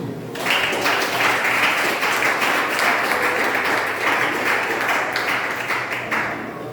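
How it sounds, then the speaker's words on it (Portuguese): A church congregation at a Sunday-evening family service claps together in praise, a loud, close burst of hand clapping that starts abruptly, holds steady and tapers slightly near the end. "glorifique o Senhor com as palmas nesta noite"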